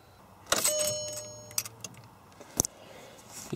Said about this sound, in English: ECU making its noise